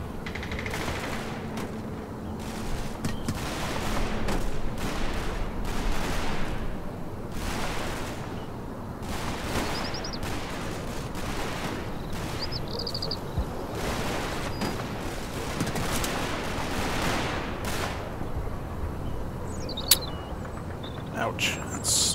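Mortar fire and battlefield gunfire in the video game Combat Mission Fortress Italy: a dense, steady run of repeated booming and crackling blasts, with one sharp louder crack near the end.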